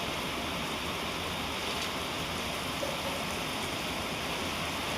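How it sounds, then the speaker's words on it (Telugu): Heavy cyclone rain in Visakhapatnam pours steadily, a dense continuous hiss with no letup and no voices. "వైజాగ్లో బీభత్సం కొడుతున్న వర్షం ఎడతెరపు లేకుండా"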